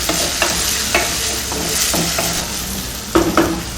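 Crushed garlic sautéing in a pan for prawn theeyyal, a steady close sizzle with repeated scraping stirs and a louder clatter near the end.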